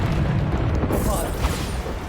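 A Bombarda spell in a Hogwarts video game sets off a booming burst of explosive noise that swells partway through and then rumbles on.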